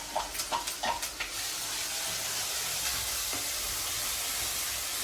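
Cucumber pickle seasoning hits hot oil with a few sharp crackles, then settles into a steady, loud, continuous sizzle close by with no talking.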